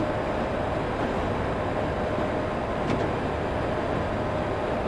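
A Class 86 electric locomotive in the OpenRails train simulator rumbles along as it slows, a dense continuous roar of motor and rail noise, steady and loud throughout.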